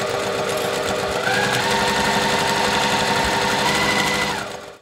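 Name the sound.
sewing machine stitching bias binding on fabric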